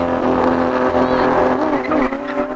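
Two Lamborghini supercars, an Aventador Ultimae and an Aventador SVJ, both with V12 engines, drag racing side by side: a loud, sustained high-pitched engine howl with some tire noise, heard close and continuous throughout.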